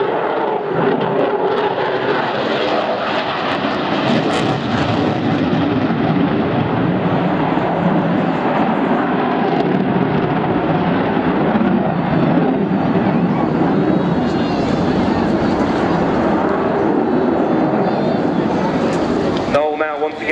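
A display jet at an airshow decelerating on throttles idle for a low-speed pass, a loud, continuous broadband engine roar and rush of air holding steady throughout with a brief dip near the end.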